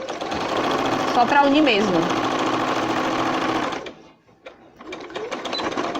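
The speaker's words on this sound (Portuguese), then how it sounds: "a gente vai passar uma costura aqui, só pra poder unir o tecido ao outro" A sewing machine runs steadily, stitching two pieces of fabric together for a bunting banner, pauses briefly, then starts up again, while someone speaks over the machine.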